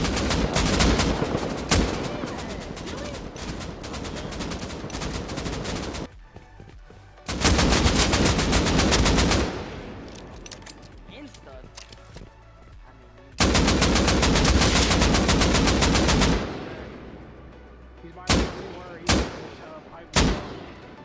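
Rapid automatic gunfire in the video game Rust, long sustained bursts of shots separated by pauses, followed by a few short single shots near the end, loud and close with no talk over it.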